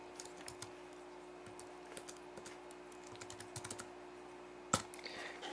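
Quiet, rapid keystrokes on a computer keyboard while code is typed for an iPhone SDK app, with an irregular patter of clicks and one louder tap near the end.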